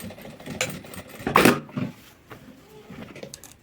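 A sewing machine runs a short burst of a few stitches right at the fabric edge while an invisible zipper is sewn in, with quieter handling clicks before and after.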